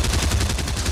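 Minigun fire in Fortnite Season 7 OG, a dense, loud, continuous stream of rapid gunshots with a pulsing rattle lasting the whole second.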